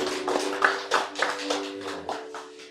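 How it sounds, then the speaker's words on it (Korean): A church congregation claps in a short, uneven burst of separate hand claps. The claps ring close and fade after a few seconds, with a steady hum beneath them. "박수로 격려해 주시기 바랍니다."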